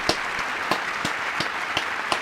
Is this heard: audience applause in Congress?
yes